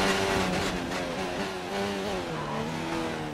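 Red Bull Formula 1 car in the F1 2019 racing game during qualifying at Monza, its engine whining steadily with shifting pitch as it accelerates and changes gear, loud and continuous with no talk.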